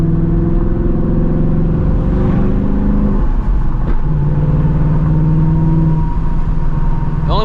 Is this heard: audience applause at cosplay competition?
no